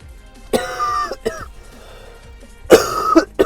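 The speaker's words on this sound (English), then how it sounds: "Sorry, I'm coughing." Several close, harsh coughs and throat clearing come in two bursts from a man during a casual podcast conversation, loud and dry against a quiet room.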